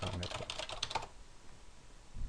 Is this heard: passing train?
no